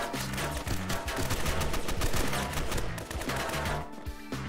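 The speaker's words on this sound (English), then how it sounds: "Bro, where's the shots going?" Rapid gunshots in the Roblox survival game Fallen Survival: a loud, continuous stream of automatic fire with quick repeated bursts, close and dominant throughout.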